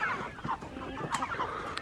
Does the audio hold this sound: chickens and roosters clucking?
yes